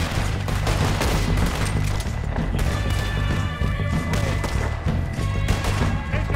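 Rapid volleys of gunfire crackle and boom without pause in Red Dead Redemption 2 during a train robbery, dense overlapping shots over a low rumbling backdrop, with no talking.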